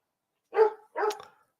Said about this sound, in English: You hear this fucking dog?